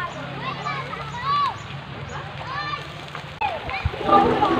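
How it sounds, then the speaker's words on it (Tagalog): Water splashes and sloshes as children bathe in a river, their voices calling and chattering, busy and fairly close, with a louder burst of splashing near the end. "Kaya mga bata, nag-i-enjoy ng maligo."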